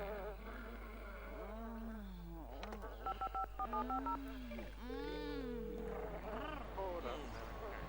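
A run of short telephone dialing tones from The Sims Bustin' Out plays in quick sequence, mixed with Simlish-style warbling voices over a steady hum.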